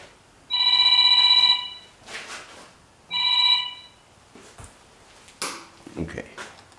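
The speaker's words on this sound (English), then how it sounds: "my phone is ringing" A mobile phone rings in a workshop during a Mantis tiller repair: two bursts of an electronic ringtone with a pause between, followed by faint rustling and handling noise.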